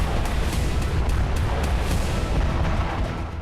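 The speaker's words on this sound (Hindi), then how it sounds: "यह फास्फोरस बम का धमाका था" White phosphorus bomb explosion during an Israeli strike on Lebanon's Dahiyeh area, heard as a loud, sustained low roar and rumble with scattered crackling bursts, continuing unbroken and without any voices.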